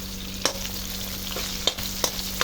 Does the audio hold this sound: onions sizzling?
yes